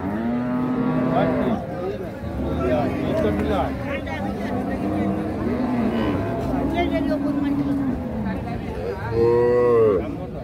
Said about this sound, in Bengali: এখানে একটা ষাঁড় বাচ্চা দেখছি।